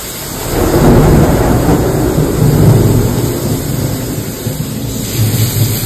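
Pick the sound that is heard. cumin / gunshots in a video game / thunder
thunder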